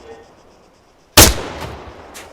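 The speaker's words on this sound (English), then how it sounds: "When you're ready, put some rounds down range." A single sharp rifle shot fires in the Arma 3 military game, a loud close crack followed by a decaying echo, with two fainter later reports trailing off.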